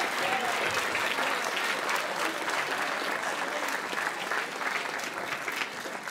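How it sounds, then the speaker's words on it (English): Sustained applause from an audience at a school band banquet, many hands clapping densely and steadily throughout, filling the room at moderate distance with no pauses. "Let's give them a round of applause."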